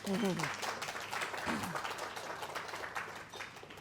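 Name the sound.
wedding dinner guests clapping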